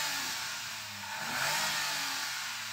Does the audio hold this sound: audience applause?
no